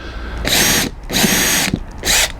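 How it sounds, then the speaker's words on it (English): A 2.5 mm bit drills a small pilot hole on a marked centre line during an outdoor pizza oven build. The power drill whines loudly in three close bursts with short pauses between them. "just drill a small pilot hole in there"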